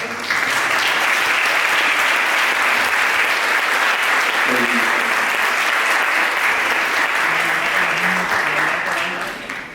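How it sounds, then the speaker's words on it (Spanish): An auditorium audience at a science event in Rota applauds the town's mayor with loud, steady applause that fills nearly ten seconds and tapers slightly at the end. "Por favor, un aplauso."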